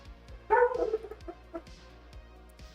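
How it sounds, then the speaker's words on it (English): A dog barks a few times in the background of a home streaming setup, a short burst of yapping barks followed by fainter whimpers and thumps, fairly faint and distant with no talk. "fucking dog"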